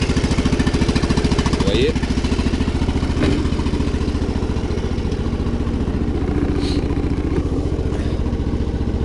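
Engine-swapped vehicle with a new battery starting and idling, a loud rapid chugging engine beat running steadily throughout, with someone talking briefly over it.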